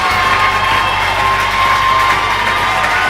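Crowds roar and cheer nonstop at a girls' high school basketball state quarterfinal, Saxony Lutheran versus Licking, a dense, loud wash of shouting fans and whoops filling the gym.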